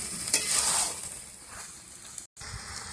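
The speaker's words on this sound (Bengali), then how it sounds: "মিট মশলাটা দিয়ে দিচ্ছি, ভালো করে নেড়ে নেবো।" A pan of fish curry with bottle gourd stems being stirred after meat masala goes in, with a steady close sizzle and frying hiss under scraping strokes that fades slightly, then a brief cut before the sizzle resumes.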